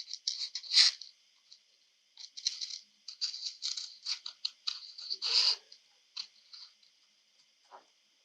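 Scissors snip around an oval shape, likely paper for glass gem magnets. Sharp, crisp cuts come close together in irregular bursts with short pauses between them.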